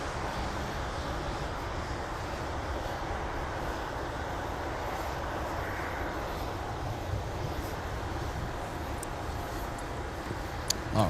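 An airliner taking off from runway 17 at Minneapolis–St. Paul airport on a winter day: a steady, distant broadband engine roar that holds evenly throughout, with no talk.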